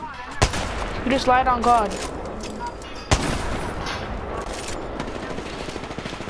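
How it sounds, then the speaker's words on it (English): Apex Legends gunfire from another player in a 1v1 fight: two sharp, loud shots about three seconds apart, the first followed by a voice talking over the game sounds. "This kid Everest keeps shooting at me, even when we're in the 1v1."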